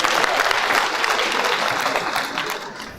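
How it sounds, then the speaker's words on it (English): Audience applause at a school annual general meeting fills the hall with dense, close clapping that starts loud and gradually fades over a few seconds. "Let us give another round of applause to our Commissioner."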